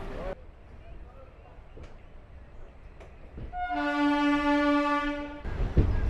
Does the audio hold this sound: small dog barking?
no